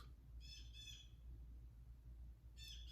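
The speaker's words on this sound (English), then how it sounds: "The birds are sitting there singing" Birds call outdoors in short bursts of bright, squawking chirps, two clusters early on and another near the end, over a steady low background rumble.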